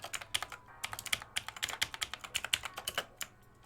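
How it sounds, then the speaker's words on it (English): Computer keyboard keys are mashed rapidly during game development work, a dense, uneven burst of sharp clicks and clacks that runs close and steady throughout, with no talking. "I'm mashing my keyboard like crazy"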